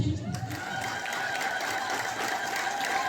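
A church congregation breaks into sustained applause, many hands clapping together in a dense, steady patter from a sizable crowd, following a brief moment of speech at the start.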